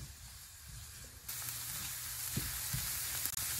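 Onions and garlic browning in a pan, a steady soft sizzle that grows fuller partway through, close and quiet, with a couple of faint stirring knocks and no talking.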